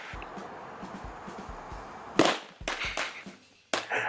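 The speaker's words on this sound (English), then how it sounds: "It's not exactly the biggest explosion ever" Small explosives set off outdoors beside boxes, heard from a distance as a loud sharp bang followed by a rumbling tail, then a second sudden crack with debris-like noise, no talking.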